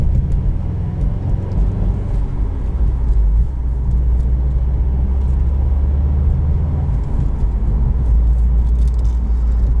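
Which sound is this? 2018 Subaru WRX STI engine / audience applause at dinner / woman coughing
2018 Subaru WRX STI engine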